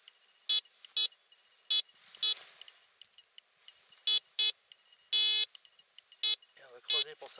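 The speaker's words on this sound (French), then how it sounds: "il sonne sur aluminium" A Bounty Hunter Land Ranger Pro metal detector sounds off on aluminium with about ten short, loud electronic beeps in an irregular series, one held longer, while faint outdoor rustling continues between them.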